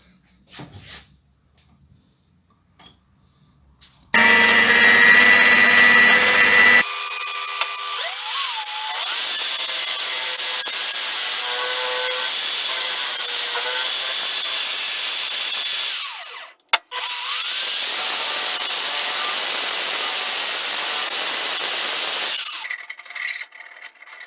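A milling cutter on a lathe setup cutting two 12 mm slots into metal, a steady loud high-pitched whine and grinding that runs continuously for most of the span with one brief interruption, close up.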